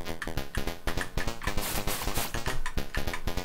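Rapid electronic gunfire rattles out in a Commodore 64 video game on a C64 Fullsize, a dense run of sharp, buzzy chiptune shots with a brief noisy burst in the middle, loud and close.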